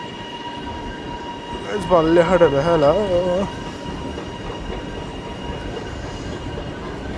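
A Melbourne Cranbourne line train at a station, its wheels letting out a loud rising and falling squeal for about two seconds over steady rumbling, with a person talking nearby.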